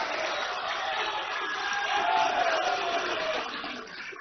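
Broadband roar of a large crowd clapping at an outdoor political rally in Jabalpur, a dense sustained wash of applause and cheering that swells in the middle and eases toward the end.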